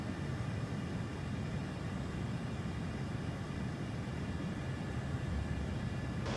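An AV-8B Harrier II jet engine held under power in Microsoft Flight Simulator, with a steady, dense roar and broad rumble that stays constant throughout.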